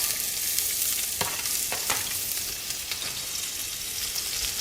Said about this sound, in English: I just tossed in a piece of onion so that I could tell when my oil has heated up and it starts to sizzle